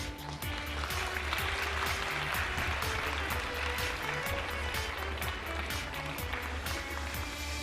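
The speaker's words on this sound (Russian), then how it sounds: "Аплодисменты, уважаемые зрители." Sustained applause from a gala-concert audience in Tallinn, Estonia, dense clapping filling the whole stretch at steady loudness, with a faint sustained musical tone running underneath.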